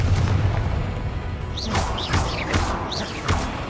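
Confringo blasting spell explosions in Hogwarts Legacy: a low booming rumble followed by several sharp bursting impacts with whooshing, crackling tails, loud and close, with no talk.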